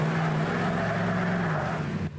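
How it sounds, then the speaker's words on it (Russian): Off-road vehicles in Taganrog spinning their wheels on a ground layer of mosquitoes, giving a steady loud engine roar with a low revving drone that cuts off at the end. "Машины с места буксуют."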